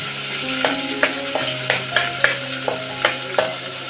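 Ginger, garlic and chilli paste with a sweet coconut-onion masala paste sautés in a hot pan for dhaba-style whole masoor dal, a close, continuous sizzle punctuated by regular spoon scrapes and taps against the pan.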